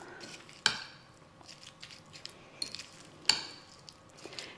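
Tuna salad with chopped apple being mixed in a bowl, soft squishy stirring with two sharp clinks of the utensil against the bowl, close and fairly quiet.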